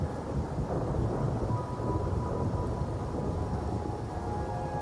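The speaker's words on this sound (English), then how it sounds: "My granddaughter told me Raguna's rain is a bad omen. Can't argue with that now" Rain falls steadily over Raguna in the video game Wuthering Waves as a deep, continuous rumble of thunder rolls underneath, loud and sustained with no speech.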